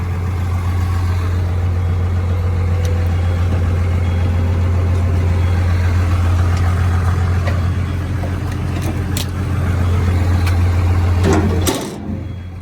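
Junkyard garbage truck engine idling loudly and close, a steady low droning hum with mechanical rattle and clatter on top, cutting off abruptly near the end as the engine shuts down.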